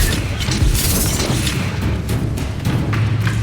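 A Confringo blasting spell explodes in Hogwarts Legacy, heavy booming and crashing impacts rolling over a loud, busy combat soundscape with brief bursts and low rumbles.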